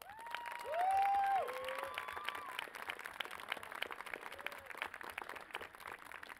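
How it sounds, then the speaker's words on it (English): An audience at a 2018 high school graduation ceremony applauds the parents, a light, continuous patter of clapping with some cheering and a few voices in the crowd. "Let's give them a round of applause."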